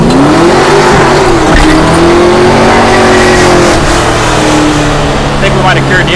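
A 1971 Duster Demon roars at full throttle with its tires spinning, a loud, close engine note climbing and holding steady for several seconds, with a voice talking over it.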